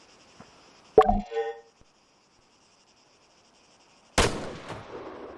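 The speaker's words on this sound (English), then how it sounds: "When you're ready, put some rounds down range." A single loud rifle shot rings out in Arma 3, fired by a sergeant kneeling in a stable firing position, followed by a brief ringing decay, a quiet pause, then a second sharp report with a longer echoing tail.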